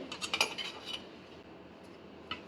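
A spoon scrapes and clinks lightly in a bowl of sifted gram flour while making thin spicy sev, with a quick cluster of small taps followed by quiet and one last faint clink.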